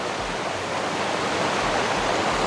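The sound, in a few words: Galapitiyaya waterfall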